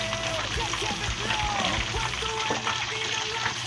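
Pork sisig frying and sizzling in oil in a pan, a steady crackling hiss with scattered pops and scraping stir sounds, while a person speaks over it.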